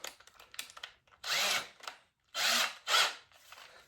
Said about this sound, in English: we're gonna use the reamer to clear this out to the right diameter.